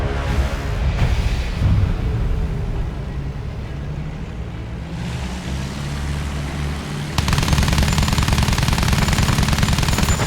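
Machine gun fire rattles continuously through a Battlefield 1 battle scene, dense and loud, with background engine rumble and a sharp rise in intensity near the end.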